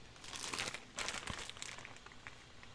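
A hand rummages through a plastic bag of sewing trims, giving soft, close crinkling and rustling that comes in short bursts, with no voices.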